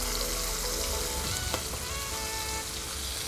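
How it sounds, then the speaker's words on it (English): Ginger garlic paste frying in a hot pan gives a steady, close crackling sizzle that holds evenly throughout, with no voices. "Adding ginger garlic paste"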